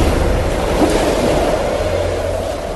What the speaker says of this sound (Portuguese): um vento forte começou a soprar e a levantar as ondas.